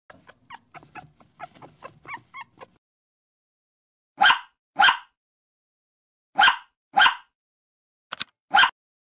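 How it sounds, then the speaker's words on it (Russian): A puppy makes six short growls, sharp and close, in loose pairs with pauses between, after some brief speech. "Щенок учится рычать, будет домик защищать."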